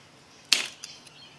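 A soaked asbestos fibro cement sheet snaps with one loud, sharp crack up close, followed by a couple of faint brittle ticks as the pieces settle.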